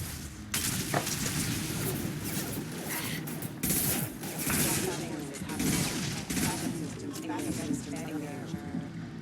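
Game gunfire crackles in dense bursts of rapid shots with booms as hunters fight back, loud and continuous under excited voices calling out.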